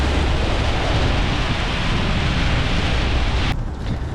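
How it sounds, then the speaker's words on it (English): Heavy storm rain drums hard and steadily on a truck driving slowly with its windshield wipers at full speed. The dense, close wash carries on loudly and then thins slightly near the end. "This rain does not want to stop"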